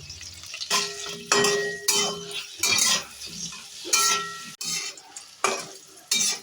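Eggplant frying in hot mustard oil in a wok, with bursts of sizzling alongside repeated stirring and scraping plus metallic clinks of utensil on pan, the sounds coming in uneven strokes close by.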